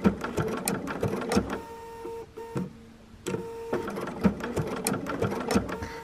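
A sewing machine stitches raw edge appliqué on a penguin quilt block, running in short bursts of rapid, rhythmic needle strokes, pausing briefly near the middle before resuming close and steady.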